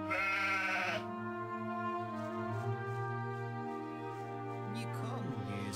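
Sheep bleating in the video game Kroniki Myrtany: Archolos, a loud wavering bleat at the start followed by sustained tonal game music, the animal close and clear.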